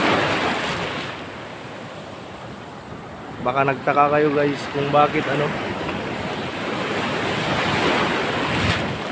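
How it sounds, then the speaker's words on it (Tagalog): Big ocean waves crash and roar steadily at sea, loud and broad with wind noise, and someone speaks briefly partway through. "Nako, grabe alon."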